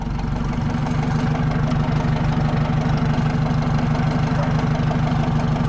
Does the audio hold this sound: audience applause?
no